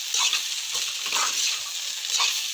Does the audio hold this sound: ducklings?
no